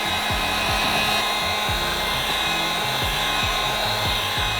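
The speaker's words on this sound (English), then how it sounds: "So nervous with a heat gun near the gas tank." A heat gun blows a steady, loud whooshing hiss while heating vinyl wrap on a supercharged Lamborghini Huracan, with faint low rubbing thumps beneath.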